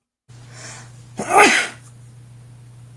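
A single loud sneeze bursts out over a low steady hum, preceded by a brief quiet intake of breath.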